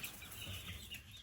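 A rooster held upside down on its back gives low, muffled clucks over steady background noise, faint and continuous for a moment.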